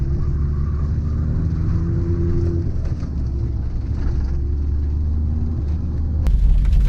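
Engine of a Peugeot 205 GTi heard from inside the cabin while driving, a loud, steady low rumble and drone that holds throughout, with a brief sharp knock near the end.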